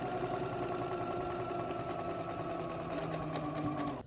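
A sewing machine stitches across a padded Sleepyhead tube cover, running as a steady, close, whirring hum for about four seconds before stopping abruptly at the end.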